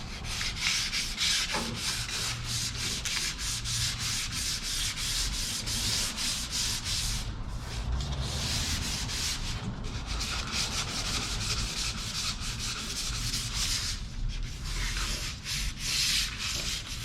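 Hand sanding of wood, a loud, close, continuous scratchy rasp with rhythmic back-and-forth strokes and a few brief pauses, no voices.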